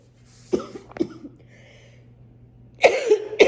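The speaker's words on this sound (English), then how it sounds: "But it is all about my cough." A person coughs twice, short and close, then after a quiet pause lets out two harsher, louder coughs.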